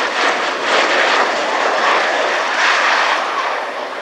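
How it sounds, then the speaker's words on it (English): Boeing CV-22 Osprey tiltrotor flying past at an air show, a loud broad engine and rotor roar that swells and holds steady throughout without any talk. "the final pass by the CV-22"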